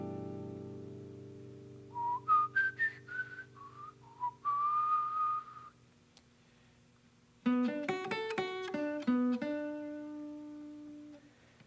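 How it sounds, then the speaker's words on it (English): Someone whistles a jazz melody, clear and close, in two phrases: a gliding, wandering line, a pause, then a second, more rhythmic run of notes. "I'm going to externalize it by whistling it."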